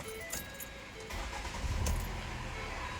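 A Ford Fusion is started with its key: a brief jingle and click, then the engine cranks and catches into a low, steady idle, heard close and fairly quiet with no talking.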